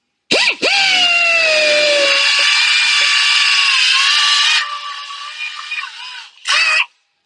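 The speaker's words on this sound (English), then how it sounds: "I'm using a belt sander with a felt" A belt sander fitted with a felt belt cleans a dented car body panel, its motor whining up loudly and running steadily for about four seconds before winding down, then giving one brief second burst.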